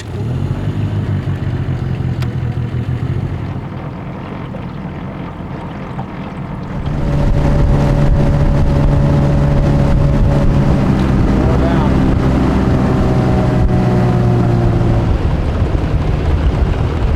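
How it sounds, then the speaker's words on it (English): A boat motor drones in hardwoods turkey-hunting country as hunters are dropped off, a steady low engine hum that swells louder midway and runs continuously with wind noise. "Ted and Jake just dropped us off in the boat down there."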